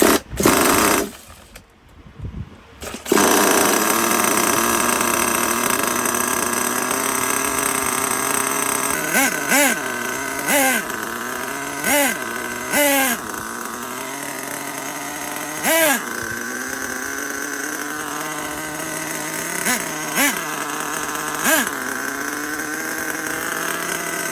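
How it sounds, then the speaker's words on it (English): The small nitro engine of an HPI Savage 3.6 RC monster truck runs continuously at a high buzzing idle, punctuated by several sharp revving bursts at irregular intervals, loud and close. "It should be running good now. It's been starting up real good."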